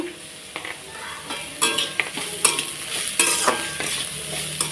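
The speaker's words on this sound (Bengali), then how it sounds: "এরকমভাবে ভালোভাবে নাড়াচাড়া করতে করতে এটাকে ভেজে নিতে হবে" Snake gourd sizzling as it fries in a pan, with scraping stir strokes recurring every half second or so over a steady close-up crackle; no one talks.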